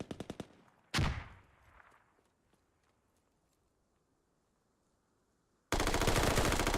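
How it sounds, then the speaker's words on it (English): Gunfire in the video game Squad rings out: a quick burst of AK rifle shots, then one sharp report that trails off into near silence. A loud, dense volley of rapid fire follows at the end. "killing Brewdog with a good burst off the AK"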